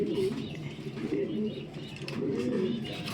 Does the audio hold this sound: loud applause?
no